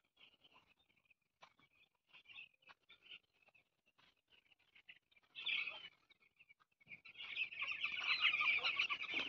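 Broiler chicks on a chicken farm peep in a thin, high chorus that starts faint and scattered, then swells into a dense, continuous cheeping near the end, with no talk.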